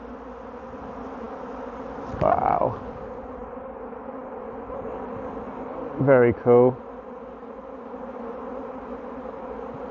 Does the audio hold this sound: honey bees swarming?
yes